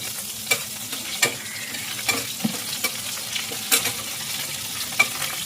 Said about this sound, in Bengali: এই একই তেলের মধ্যে এবার দিয়ে দেবো কালো জিরে ফোড়ন, আর দেব একটা শুকনো লঙ্কা, একটু ফাটিয়ে দেবো